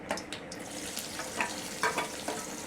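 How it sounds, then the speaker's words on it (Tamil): Onions frying with mustard seeds and fennel in hot oil: a steady, soft sizzle with a few brief crackles and pops over about three seconds, fairly quiet and close, no talking. "அதோடையே நான் வெங்காயத்தை சேர்க்க போகிறேன்"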